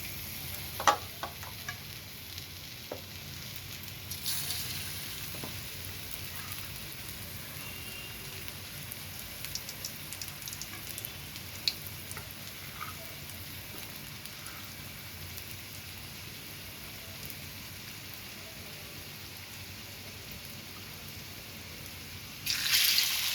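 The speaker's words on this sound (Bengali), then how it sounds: "ধীরে ধীরে আসবে কিন্তু ভাজতে হবে সময় নিয়ে" Flour-coated eggplant and chicken pieces deep frying in oil, a soft steady bubbling sizzle with a few faint clinks and a louder burst near the end, and no voices.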